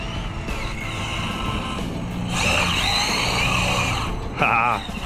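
An Arrma Typhon RC car drifts with an aggressive ESC power curve, its motor whining and tires scrubbing steadily, rising louder midway and peaking in a brief surge near the end.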